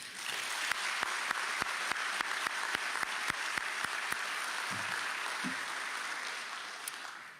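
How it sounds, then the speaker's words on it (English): A crowd at a military funeral claps steadily in sustained applause, with a few sharper individual claps standing out before it gradually tapers off. "I'd like to give them a round of applause real quick."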